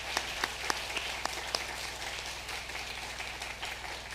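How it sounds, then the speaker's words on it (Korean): A church congregation claps in welcome for new members during a Sunday service, a diffuse patter of hands with a few sharper claps near the start, steady and moderately distant. "우리 세교들 다시 한번 환영의 박수."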